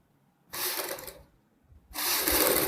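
Sewing machine stitching a kurti front neck piece, two short bursts of motor whir, the second longer, close and fairly loud with a quiet pause between and no talk.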